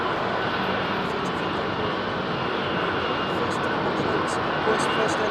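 An Airbus A380 airliner arriving at London Heathrow gives a steady, loud broadband jet roar that holds throughout without a break, with a faint voice murmuring underneath.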